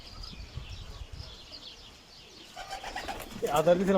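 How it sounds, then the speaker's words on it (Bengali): Pigeons cooing inside a pigeon farm, soft murmuring calls at first that grow louder and busier toward the end, with faint movement and a little background talk. "এখন আমি কবুতরের খামারের মধ্যে আছি।"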